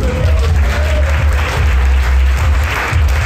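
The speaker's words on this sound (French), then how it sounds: "On l'applaudit." A crowd at a Masonic gala applauds in a dense, continuous wash of clapping that holds steady and close for a few seconds.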